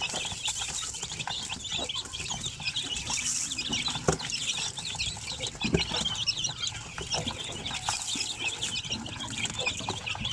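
A crowd of young chicks cheeps continuously, a dense, high, overlapping chorus of peeps from a batch of chicks kept for sale, with occasional louder chirps standing out.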